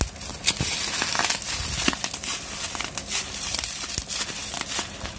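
Plastic packaging from a Boya BY-M1 microphone crinkles and crackles steadily up close, with dense irregular crackles and sharp crunches running throughout and no voices over it.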